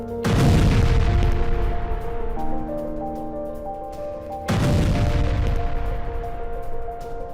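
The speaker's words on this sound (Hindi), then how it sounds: "पिन पॉइंट अटैक में टैंक के पर खच्चे उड़ गए।" A Russian tank being destroyed in Donetsk gives two heavy, loud booms about four seconds apart, each decaying into a rumbling tail over a tonal musical bed.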